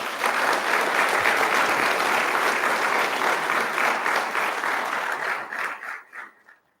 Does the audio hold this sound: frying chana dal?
no